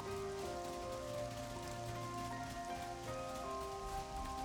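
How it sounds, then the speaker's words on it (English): Steady rain falling in the video game Xenoblade Chronicles 3, a dense continuous hiss of drops with faint tonal game music running underneath, no speech. "Rain, how inconvenient."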